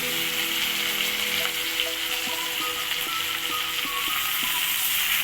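Onions and tomatoes fry in a pan for a catfish curry, giving a dense, continuous hiss of sizzling oil, close and even throughout, with faint stirring taps underneath.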